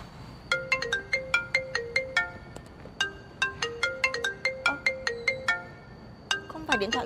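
A mobile phone ringtone plays a bright repeating melody in steady bursts, pausing briefly before resuming, loud and close with faint background murmur.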